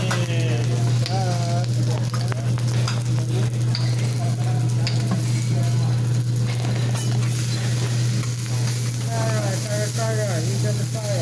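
Dinner sizzles and crackles loudly in a pan while being stirred, a dense constant frying hiss with scraping movements and a low steady hum, with voices talking faintly in the background.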